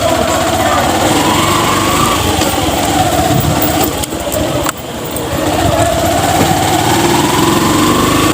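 A motorcycle engine hums steadily throughout, with a brief dip midway before the drone picks back up, close and continuous with wind-like noise.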